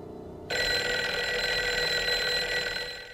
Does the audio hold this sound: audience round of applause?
no